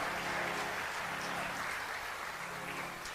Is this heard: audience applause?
yes